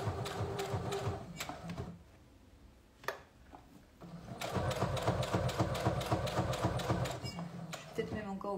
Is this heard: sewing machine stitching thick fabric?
yes